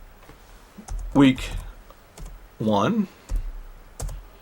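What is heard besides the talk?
typing a folder name on a computer keyboard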